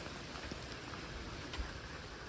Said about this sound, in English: All right, it's raining, but there you go.